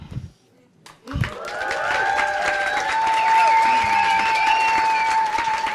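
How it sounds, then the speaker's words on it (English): Science slam audience in Barcelona breaks into applause after a short silence, a dense, sustained wash of clapping with cheering and whistles, loud and steady to the end. "Yeah, enjoy your applause, right?"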